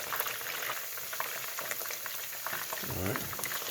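Korean spicy garlic chicken deep frying in hot oil, a steady dense crackling sizzle with a brief bubbling swell near the end, no talk.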